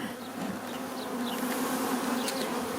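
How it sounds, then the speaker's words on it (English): Honeybees and larger drones swarming at a beehive make a dense, continuous buzzing hum close by, steady and unbroken, with individual insects whirring past now and then. "there are some bigger bees that I think are drones that are going in here"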